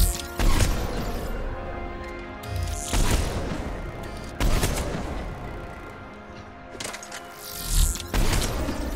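Repeated bursts of gunfire from a firefight in the Mass Effect 3 PC game on Insanity difficulty, loud sharp shots and volleys in clusters over a steady droning game soundscape, with no talk.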